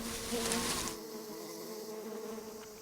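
Dense, steady insect buzzing, many giant hornets droning together close by around their nest as a badger raids it, louder at first and then settling into a continuous hum.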